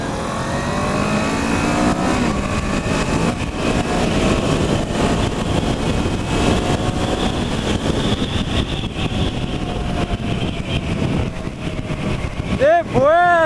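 A Kawasaki Versys 650 motorcycle engine drones steadily while riding, its pitch shifting slowly with speed over loud wind rush, and a brief engine rev surge comes near the end.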